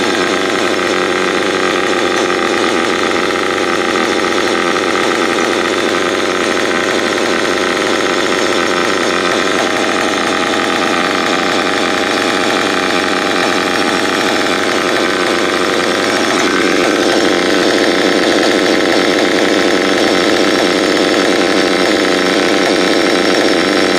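A Mugen MBX5 nitro RC buggy engine idles steadily and loudly up close, a continuous buzzing drone that holds for a long stretch with a slight rise in pitch near the end, and no voices.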